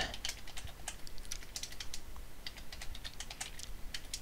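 Fingers type on a computer keyboard, with quick irregular bursts of light key clicks at close range, fairly quiet and with no talking.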